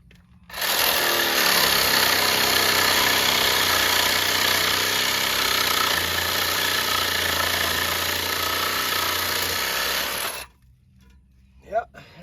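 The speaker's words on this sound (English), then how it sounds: "I'm just gonna go right for the Sawzall and see if it's gonna do anything for us." A Sawzall reciprocating saw cuts through a big, messy piece of equipment being repaired, a loud, steady buzzing run of about ten seconds that stops abruptly, followed by a brief faint knock.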